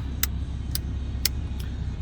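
A 2024 RAM 3500 Tradesman work truck fitted with air bags drives along, giving a steady low engine and road rumble with a few soft, evenly spaced ticks on top and no talking.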